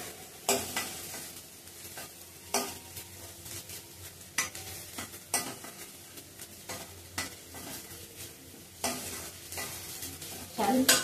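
Grated coconut and ginger roasting in a pan, with a low sizzle and repeated sharp scrapes and taps of a spoon stirring against the pan, close and uneven in rhythm, with no talking.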